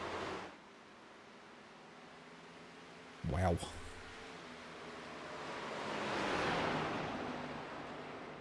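Heavy rain pouring outside, a steady broad hiss that swells louder toward the end, with one short spoken exclamation partway through.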